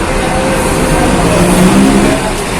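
A Hino RN 285 bus pulls into the shelter at Purabaya bus terminal, its engine rumbling loud and close as it rolls in, with no talk over it.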